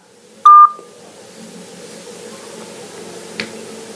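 A phone emits a clear burst of touch-tone dialing beeps, loud and brief near the start, followed by a faint low hum and a small click, with no talking.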